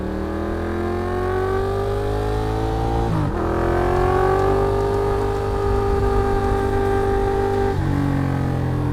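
A loud, continuous engine note from a Ducati Diavel motorcycle rising in pitch, its exhaust building to a high-revving scream around 6,000 to 7,000 RPM, with a brief shift partway through.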